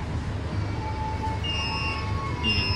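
Argo Lawu executive train pulling out of Solo Balapan station, a steady low rumble of the rolling carriages with faint high squeals and tones rising near the end, heard from inside with no talk.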